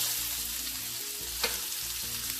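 A gluten-free oatmeal pancake sizzles steadily in a frying pan, a soft constant frying hiss with one brief brighter crackle midway, heard close with no talk.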